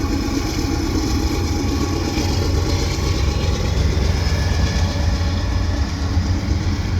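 A smoky CPKC diesel freight train led by an unrebuilt AC4400 locomotive rumbles past at close range, a loud continuous engine drone with rolling wheel noise that holds steady throughout.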